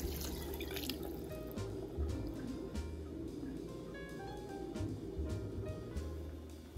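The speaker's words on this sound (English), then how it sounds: "I added about 2 cups of water." Water poured into a pot of cooking meat and vegetables, soft liquid splashing and dripping at low level, close and continuous with no talk.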